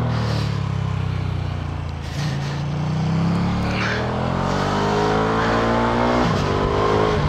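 A Ducati Streetfighter V2 motorcycle engine revs loudly and steadily for several seconds, its pitch climbing and settling in rising sweeps, with a brief dip partway through and a fresh climb near the end.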